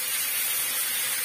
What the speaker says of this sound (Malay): Ni cara Kak Noh goreng mi je lah